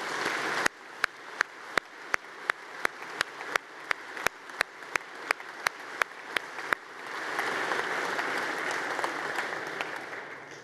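At a regional president's New Year address, isolated sharp claps ring out at a steady rhythm for several seconds, then swell into a denser, sustained round of applause from the audience.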